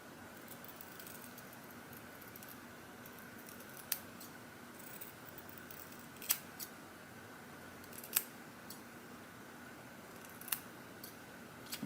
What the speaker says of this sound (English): Cut fine wet. See how they cut hair?